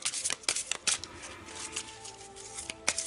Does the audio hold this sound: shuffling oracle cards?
yes